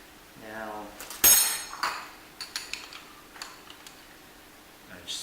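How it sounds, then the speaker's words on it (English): A knife taps and clinks against a beef pot pie dish while cutting a small steam hole in the crust, a sharp metallic chink followed by lighter scattered ticks, close and fairly quiet, with a brief murmur at the start. "now get a knife and just make a small incision to let all the steam escape"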